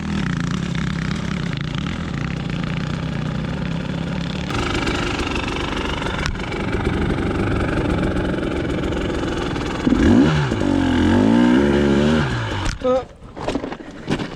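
A dirt bike engine labors and revs loud and close on a steep hill climb at an extreme off-road event, droning steadily then surging and sputtering before cutting off, while a voice talks over it.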